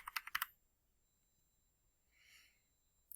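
Fast burst of computer keyboard typing, a quick run of crisp key clicks lasting about half a second, followed by quiet and a faint soft rustle.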